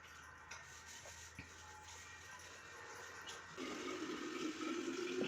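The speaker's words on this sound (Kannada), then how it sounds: "ಈಗ ವಾಟರ್ ಬಾಟ್ಲಿ ಎಲ್ಲ ವಾಶ್ ಮಾಡಿ ನೀರು ತೆಗೆದಿಡ್ತಾ ಇದ್ದೀನಿ." Running water splashes while water bottles are washed, a steady rushing stream that swells louder partway through, with no talking.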